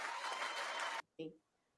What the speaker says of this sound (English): Can y'all give them a round of applause?